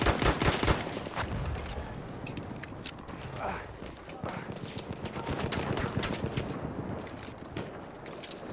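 Battlefield 1 game combat with repeated gunshots and machine-gun bursts, loud near shots at the start giving way to a steady rattle of fire, with someone talking over parts of it.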